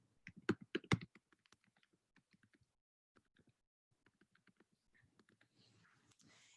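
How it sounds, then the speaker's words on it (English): Keys tapped on a computer keyboard in scattered soft clicks, a quick cluster at first, then sparse single presses and a light flurry near the end, fairly faint and close. "let's go ahead and start typing that in here"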